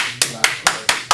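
A man claps his hands five times in an even rhythm, loud and close, mimicking Wall Street traders clapping at the bell. Each clap is a crisp, sharp smack with brief silence between.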